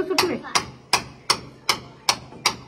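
Seven sharp, evenly spaced hammer blows breaking up a hard bathroom floor, each ringing briefly before the next.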